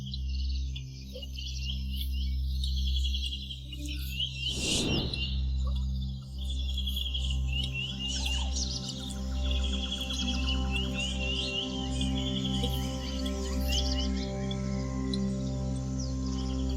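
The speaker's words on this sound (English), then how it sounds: "birds bring variety and beauty to an already teeming ecosystem." Wetland birds chirp and trill in bright, scattered calls over a steady low hum, with one brief louder burst partway through, faint and distant overall.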